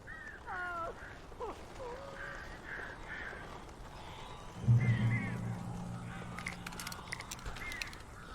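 Crows caw in Alan Wake Remastered, a few birdlike calls scattered early against a dense, noisy game ambience, followed by a louder low rumble midway.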